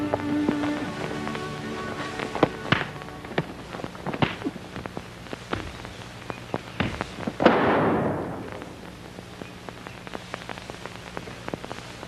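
A revolver fired point blank during a fistfight in a 1937 film serial: sharp cracks and thumps, then one loud, broad blast about two-thirds through that decays over a second.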